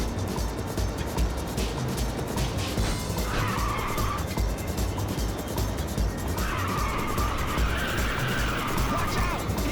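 A race car drifting through a high-speed corner in the PSP game Ridge Racer, with a loud, constant engine drone under two long, wavering tyre squeals from skidding.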